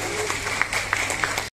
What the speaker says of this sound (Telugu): నిర్వాహకులను చప్పట్ల ద్వారా మీరు అభినందించాలి